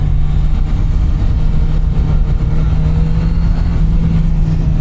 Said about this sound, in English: I do like second gear on this bike. It sounds fantastic.